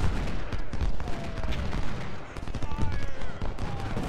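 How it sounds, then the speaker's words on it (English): Artillery fire in the Civil War strategy game Ultimate General: Civil War, a dense barrage of overlapping booms and crackling shots rolling on steadily over a noisy battle din, with brief tonal whistles threaded through. "That's our artillery shooting."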